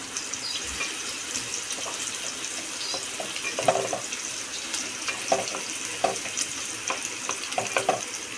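Chopped onion frying in hot oil in a cooking pot to start a prawn gravy, a steady sizzle with scattered sharp pops and crackles and occasional stirring clinks, close and fairly loud, with no voices.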